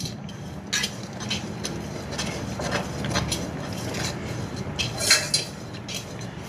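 Hot oil is poured into Mysore pak batter of gram flour and sugar syrup in a pan over medium flame while it is stirred, giving a steady sizzle with light scraping and clinks of a utensil against the pan.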